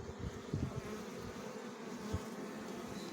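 Honey bees buzz steadily around a hive during colony work, a dense, continuous hum with a few louder low bumps from handling the frames, close by and without any talking.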